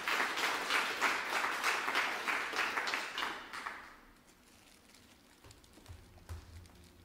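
Audience applause at a vocal festival awards concert in Wojkowice, a dense, lively clapping that runs for about four seconds, then fades into quiet room noise with a few scattered claps.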